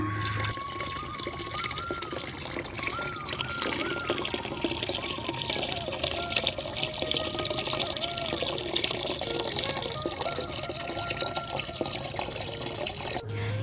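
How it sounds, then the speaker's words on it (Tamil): Tap water runs steadily into a container, filling it during the early-morning household water supply, a continuous hissing, splashing flow heard close and alone throughout. "டெய்லி காலையில் விடிய காலையில் தான் தண்ணி விடுறாங்க அதனால் வந்து குழாயில் பிடிச்சி வச்சுக்கிறதுக்காக"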